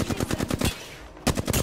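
Rapid automatic gunfire from an Apex Legends match, dense bursts of shots in two volleys separated by a short lull, loud and close with no talking.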